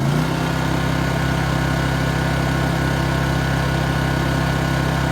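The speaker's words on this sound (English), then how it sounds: "if you turn the auto throttle off and rev it up" A Honda EU2200 portable generator running on propane drones loudly and steadily at high revs with auto throttle off, a constant close engine hum without pauses.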